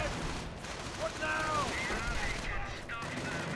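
Grenades burst on both sides of a video game battle amid a constant din of combat. Muffled pops and rumbling blasts sit within continuous scattered gunfire, at an even, moderate loudness throughout.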